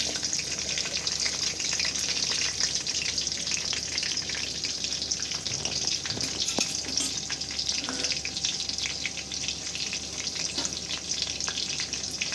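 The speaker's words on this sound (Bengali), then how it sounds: "তেলটা গরম হয়ে গেছে, এবার আমি এখানে রসুন কুচি অ্যাড করে দেবো" Chopped garlic and onion sizzle and crackle in hot oil, a steady close hiss with occasional clicks and stirring sounds.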